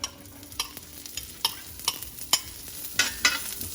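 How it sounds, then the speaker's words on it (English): Onions frying in a hot pan for Jamaican cabbage, a soft steady sizzle broken by a series of sharp clinks and scrapes from stirring, no talking. "I'm gonna go ahead and I'm gonna start by adding the onions."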